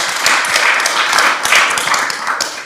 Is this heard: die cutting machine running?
no